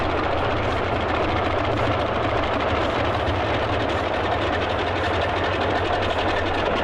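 Aircraft engines run steadily in the DCS flight simulator game, a loud, unbroken droning roar with a low throbbing hum that holds level throughout, with no voices.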